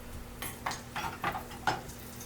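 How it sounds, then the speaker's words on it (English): Eggplant being stirred in hot oil or vegan butter in a pan, a spoon scraping and clinking in about five distinct strokes over a faint background hum. "Give that a nice stir."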